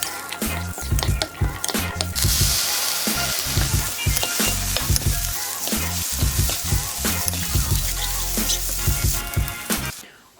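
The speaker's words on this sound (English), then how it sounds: "I have some asparagus I'm gonna saute." Asparagus and mushrooms sauteing in a hot pan for breakfast, a loud steady sizzle and crackle of frying with repeated stirring and scraping pulses running throughout, close and continuous until a brief drop at the very end.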